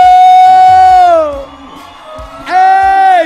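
Spectators at a vaquejada duel between Wesley Safadão and Nathan Queiroz let out loud, sustained whooping yells. Two strong bursts are split by a brief quieter dip.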